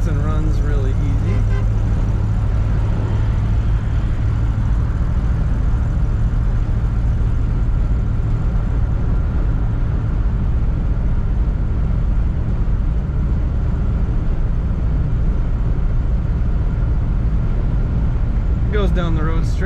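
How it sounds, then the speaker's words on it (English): A 1957 Cadillac Series 62 Convertible engine runs with a steady, close rumble that holds evenly throughout, with brief talking at the start and end. "This car starts and runs really easy."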